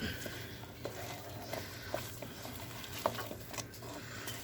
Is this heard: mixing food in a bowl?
yes